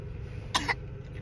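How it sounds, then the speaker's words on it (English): A short, small cough, two quick bursts close together, over a low background hum. "Y'all hear my baby in the back coughing."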